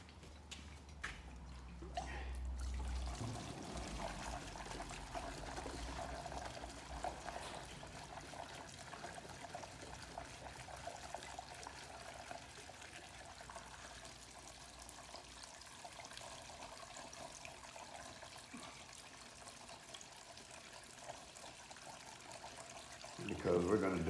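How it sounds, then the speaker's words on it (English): Fuel dumped into a plastic milk jug already holding water: a low, steady glugging pour and trickle running for over twenty seconds, faint and close, with a short louder burst at the start and end. "And we'll dump some fuel in there."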